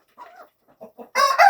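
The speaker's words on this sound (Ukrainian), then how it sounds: "півень співає." A rooster crows loudly and close, following a few softer clucking calls from hens.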